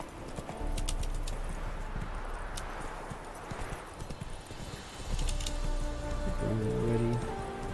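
Hooves of the horse Roach clip-clop at a rapid gallop in The Witcher 3, a loud, close, rhythmic drumming under game music, with a brief spoken voice.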